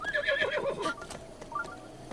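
A horse whinnies in Breath of the Wild, a clear high neigh opening the moment, then fading into softer snorts and light ambient game sound, heard alone without talk.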